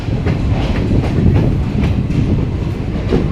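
The Vibhuti Express passenger train runs on its rails, a loud, close, continuous rumble with rhythmic clickety-clack of wheels over rail joints, heard without any talking.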